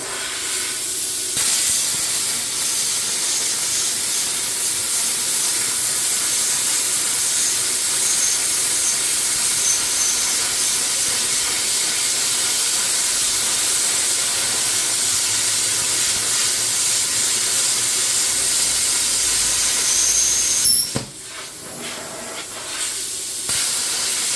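An Arccaptain Cut50 plasma cutter slices through 3/8-inch metal with a loud, steady hiss that runs for about twenty seconds before cutting off abruptly. A softer hiss follows.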